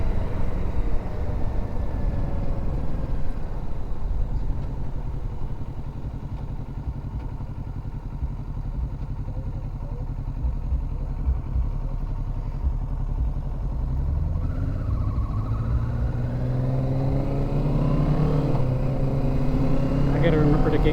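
Kawasaki Ninja 650 motorcycle riding through traffic, a steady close engine drone with wind rush throughout, rising into louder revving and climbing gear pitch near the end.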